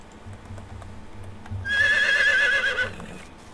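A horse in the video game Medieval Dynasty lets out a loud whinny lasting about a second, heard alone over a low background rumble.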